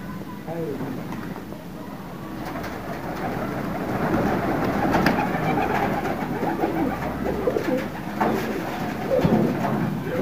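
Pigeons coo in a continuous low murmur from a flock kept nearby, with rustling and steady background noise throughout and no clear talk.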